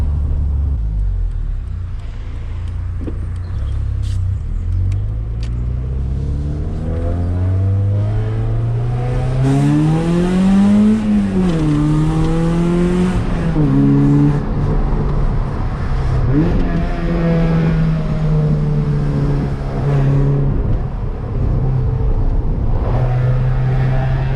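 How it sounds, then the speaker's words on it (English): Raspy car exhaust of a replacement for an ST revs from outside with the windows down, a loud continuous roar that climbs, peaks, drops back and rises again before settling into a steady drone. "I'll put the windows down now so you guys can get an idea of how loud the actual exhaust is from the outside"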